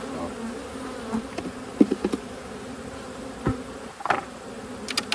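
Honey bees buzz steadily around an open hive during a fall inspection, a close droning hum with scattered louder passes of individual bees and occasional handling knocks.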